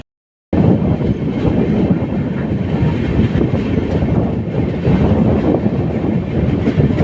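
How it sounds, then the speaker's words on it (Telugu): A passenger train on a long-distance run rolls steadily along the rails, a continuous close rumble with faint clickety-clack and wind noise, no talking. "దారిలో అయితే ట్రైన్ అయితే మధ్యలో ఆగిపోయింది. ఇప్పుడే అయితే కదిలింది."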